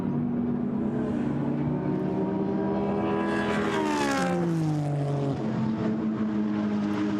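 GT race cars scream past at the Paul Ricard circuit, engine notes rising sharply then sweeping downward as they approach and pass, sustained and loud against constant track noise.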